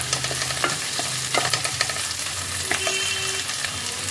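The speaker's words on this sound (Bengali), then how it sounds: "আদা রসুনের কাঁচা গন্ধটা যাতে চলে যায় ততক্ষণ আমি ফ্রাই করব এটাকে।" Chopped ginger, garlic and green chilli sizzle steadily in a pan, with repeated scraping stirs of a spatula breaking through the close, continuous frying hiss.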